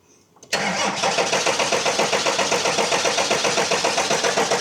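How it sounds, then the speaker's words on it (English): A heavily modified 1300+ horsepower diesel truck engine cranks abruptly after a brief quiet moment, then holds a loud, steady, rhythmic pulsing churn close by without any talking. "So I'm going to crank really quick."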